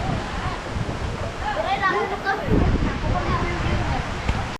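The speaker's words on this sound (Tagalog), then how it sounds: "Grabe po yung baha" Rushing, deepening flood water roars steadily with gusts of wind against the microphone, while people talk and call out over the noise.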